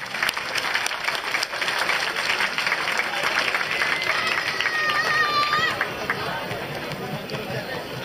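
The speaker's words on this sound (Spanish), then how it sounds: "que suene el aplauso del público" Audience applause at a championship for trocha and galope mares in Supatá, Cundinamarca, a dense, steady wash of clapping and crowd noise that holds loud for several seconds and then eases.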